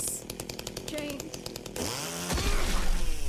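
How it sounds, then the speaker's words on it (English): Chainsaw revving in the video game Silent Hill 2 Remake, a rough buzzing engine that starts rhythmic and rising, then swells into a louder continuous roar, with game sounds mixed in. "Chainsaw? Wait, you get a chainsaw in this game?"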